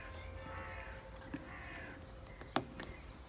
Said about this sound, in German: Und eine Krähe.